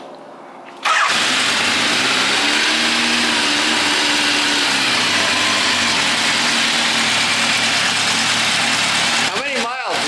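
Yamaha FZR motorcycle engine, recently restored, cranks and catches abruptly, then settles into a loud, steady idle with a slight revving wobble, with people talking briefly near the end.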